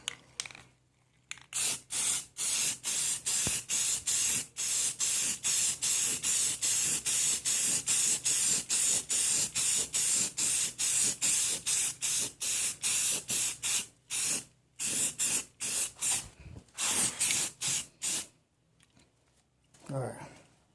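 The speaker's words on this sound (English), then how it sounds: "And for the final and third coat." A spray gun lays the third and final paint coat on a car fender of a 2008 Honda Accord EX-L V6 rebuild, loud hissing bursts repeated rapidly in short passes, pausing briefly before stopping.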